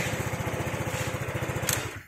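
A Honda PCX 150 scooter engine starts and settles into a steady, rapid low putter close by, running alone for about two seconds with a brief click near the end.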